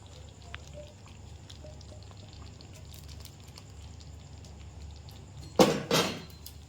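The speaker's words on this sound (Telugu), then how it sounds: "పిండి కలిపి నీళ్ళు పోసుకుందాం." Water is poured into flour for palathalikalu, a sweet made with milk, in a quiet home kitchen. After a long hush, a short burst of pouring and splashing runs for under a second near the end.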